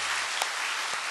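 A church congregation claps together in dense, steady applause, a brief burst of many hands at close range.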